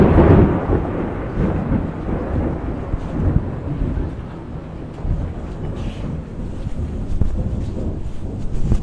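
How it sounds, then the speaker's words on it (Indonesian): Rain falling outside a modern luxury house in Grand Bukit Dago, viewed toward the backyard, a steady broadband hiss with low rumbling wind buffeting the microphone, continuous and fairly loud, no voices. "ini kawan-kawan bisa lihat nih kalau suasana yang lagi hujan ya"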